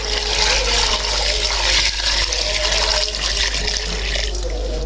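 Water pours steadily into a pot of chicken feet being cooked with ground masala, a continuous rushing splash that holds at an even, close level for about five seconds, with no talking.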